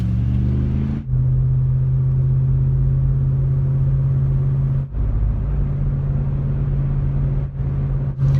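Steady engine rumble and road noise from a car driving through city blocks, loud and continuous with a few brief dips, no voices.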